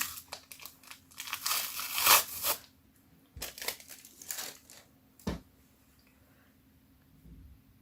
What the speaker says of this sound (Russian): теперь убираем скотч, он нам больше не нужен.